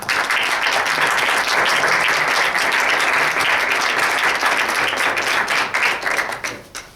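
Audience applause at a book presentation, thick continuous clapping from a room full of listeners that holds steady and then tapers off in the final second.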